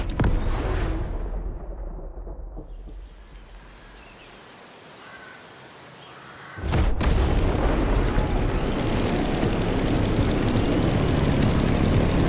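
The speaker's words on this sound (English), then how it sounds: "Immediate takeoff." In the video game The Crew Motorfest, an airplane takes off with an engine roar that dips and fades to a low rumble, then surges back into a loud, sustained, broad roar.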